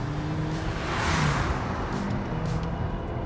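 McLaren 720S engine accelerating hard, a dense rising roar with road and wind rush, steady and fairly loud over a few seconds.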